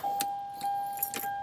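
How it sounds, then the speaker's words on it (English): Car keys for a Toyota Camry jangle in a few short metallic bursts, close and fairly quiet, against a faint steady tone. "get your keys."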